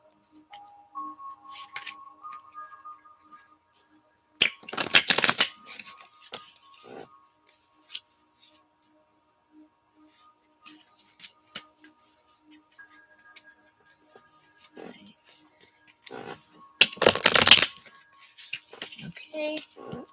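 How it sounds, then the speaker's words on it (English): Tarot cards from a Morgan Greer deck being shuffled by hand, with two loud, dense bursts of riffling card noise separated by quieter handling sounds and light tapping. "Sorry, I tried to show the shuffle. This is how I tend to shuffle most often."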